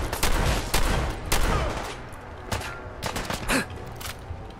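Rapid bursts of gunfire in Fallout 4's Far Harbor, loud, dense volleys in the first seconds, thinning into scattered shots and impacts before the clip ends.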